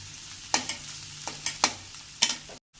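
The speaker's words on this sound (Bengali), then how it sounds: "আমার পেঁয়াজটা যখন হালকা একটু ভাজা হয়েছে" Onions frying in oil with a gentle sizzle, punctuated by several sharp scraping strokes of a spatula stirring the pan.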